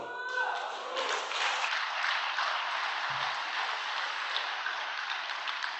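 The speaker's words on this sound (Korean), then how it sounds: "다시 한번 감사의 박수를 부탁드리겠습니다" Sustained applause from a church prayer-meeting audience, dense and steady clapping throughout, with a brief voice at the start.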